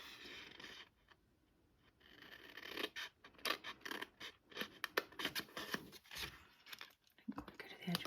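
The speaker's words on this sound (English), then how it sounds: "Snip this edge off here" Scissors snip through card stock while cutting a craft gift box, a run of short, close, crisp cuts and scrapes in uneven bursts after a quiet start, with no talking.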